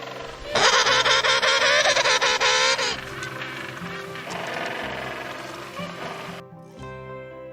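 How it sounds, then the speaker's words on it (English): A penguin call: loud, harsh, bleating honks with a strong nasal buzz in a sustained run near the start, followed by quieter, rougher calling with background noise and no talk. "Penguin makes bleat sound."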